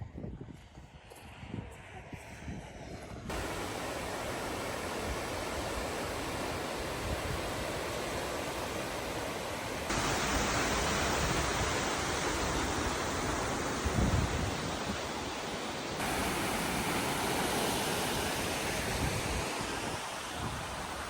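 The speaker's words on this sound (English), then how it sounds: "This waterfall here is called Brauerfoss, and it was not even on the itinerary of the Golden Circle that we were following." Bruarfoss waterfall in Iceland gives a steady broadband roar of rushing water, continuous and fairly even, with wind buffeting the microphone in the opening seconds.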